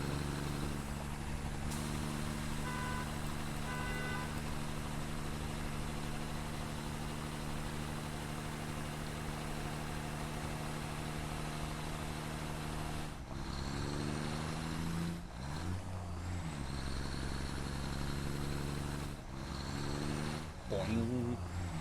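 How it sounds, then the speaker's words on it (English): Large truck driving in Satisfactory, a steady low engine drone with tonal hum held for a long stretch, then a few abrupt jolts and engine surges near the end. "Luckily with this truck, it's not too far of a drive"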